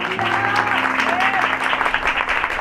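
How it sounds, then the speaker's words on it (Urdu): A church congregation applauding, a steady dense wash of clapping that fills the whole moment, loud and close, with voices and music tones mixed in underneath. "یسوع کے لیے زوردار تالیاں بجائیے"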